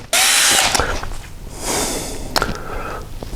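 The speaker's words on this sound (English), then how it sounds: "a drill" A power drill whirs loudly in a couple of short high-pitched bursts, with clicks and handling noise between them, close by.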